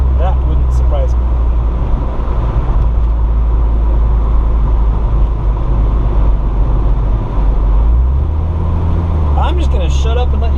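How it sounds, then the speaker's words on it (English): Wind rushes through the open windows of a car on a Colorado mountain drive, a loud continuous roar over low road rumble, with a shift in engine tone near the end. "Hopefully you can hear the wind blowing through the windows."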